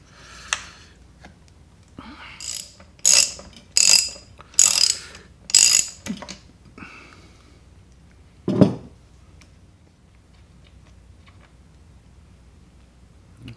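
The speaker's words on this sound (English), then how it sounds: "I'm gonna take a ratchet to take the spark plug out." A ratchet wrench loosens the spark plug on a two-stroke engine, giving a series of about five sharp, close clicking bursts at an even pace, then a single duller clunk and quiet.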